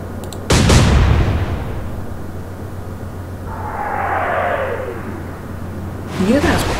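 Naval gunfire from the Atlantic Fleet naval warfare game, aboard a British cruiser: one sharp, heavy blast that decays into a rumbling tail, then a softer whooshing swell and a brief crackle near the end.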